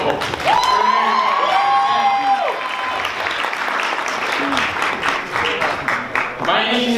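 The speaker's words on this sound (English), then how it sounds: "Let's give one more round of applause for the couple." Wedding reception guests applaud and cheer the newly married couple in a steady burst of clapping, with a voice speaking over the crowd at the start and scattered whoops throughout.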